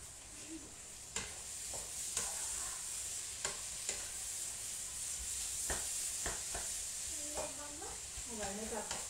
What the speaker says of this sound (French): il faut vraiment que la viande elle grille un petit peu